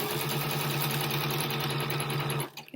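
A sewing machine running a zigzag stitch hums in a fast, steady mechanical whirr close up, then abruptly stops near the end, with no talking over it.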